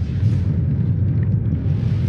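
Missiles exploding in Armored Core VI give a deep, sustained rumbling roar, heavy and low, rolling on continuously without a sharp individual blast.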